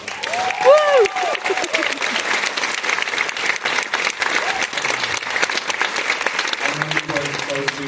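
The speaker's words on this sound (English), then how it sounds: "Another round of applause." A festival audience at a film premiere Q&A claps in a steady, dense wash of applause, with a short vocal exclamation early on and a voice starting to speak over the clapping at the end.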